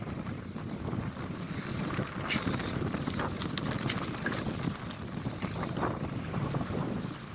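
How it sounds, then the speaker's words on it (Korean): Steady wind gusts buffet the microphone on a breezy seaside shore in Seosan, a continuous rushing roar with faint sea sounds beneath and no talking. "여기가 바다입니다, 바다"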